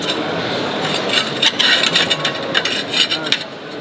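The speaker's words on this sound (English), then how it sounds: "The tiles get replaced like this." Clay rosemary roof tiles rasping and scraping as they are slid back into place over a solar mounting system, a close series of gritty rubs and clinks.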